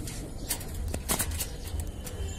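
Pigeons kept by a hobbyist coo softly in low repeated murmurs, with a few short wing flaps or scuffles. The sound is faint and close, and there is no talk.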